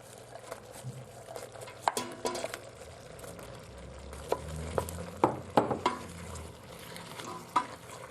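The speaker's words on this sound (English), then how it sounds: "So now the meat has started to brown, we're just going to add the onions and garlic." Beef with onions and garlic searing in a Supreme Precision 3 in 1 slow cooker for Thai beef curry, a soft steady sizzle punctuated by clustered utensil scrapes and clinks against the pot, close by.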